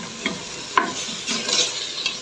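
Spiced dried meat (qadid) frying in a pan and being stirred: soft scraping strokes over a low, steady sizzle, with a sharper clink near the start, moderately quiet and close, with no voices.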